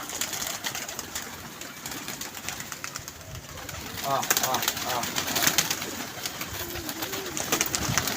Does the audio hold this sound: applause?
no